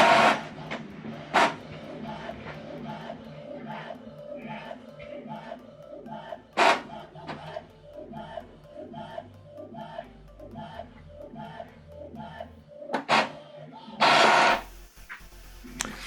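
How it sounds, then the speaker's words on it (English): An Epson WorkForce printer printing an alignment pattern page, heard as a rhythmic series of mechanical clicks and whirs from the print head moving back and forth, with a few sharper clacks and a louder burst near the end. "So now it's printing the page 2."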